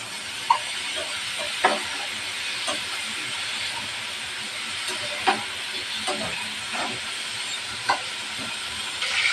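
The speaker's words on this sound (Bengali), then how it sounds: "আলুটাও ভালোভাবে ভাজিয়ে নেবো" Potatoes with turmeric and salt fry in a pan, a steady close hiss of oil broken by occasional sharp clinks of a spatula stirring.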